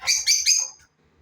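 Pet birds chirp in three quick, bright, close tweets within under a second, then fall silent.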